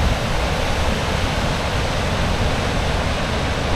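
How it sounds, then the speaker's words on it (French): A large waterfall in Iceland thunders with a steady, dense roar of crashing water, loud and unbroken throughout with no voices. "La chute génère un grondement énorme et un nuage de brume visible de très haut"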